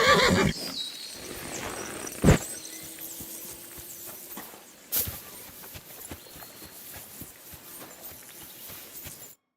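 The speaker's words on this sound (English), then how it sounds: "Lovely horses you have here." Horses in the video game Kingdom Come: Deliverance II whinny and neigh loudly in short bursts, with a soft clip-clop of hooves and scattered movement sounds in between.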